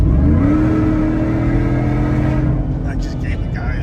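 Supersnake sport truck engine giving a brief blast, a loud close rev that holds a steady growl before dropping back, with a voice talking over the tail end.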